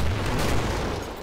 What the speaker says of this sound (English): I threw all my grenades.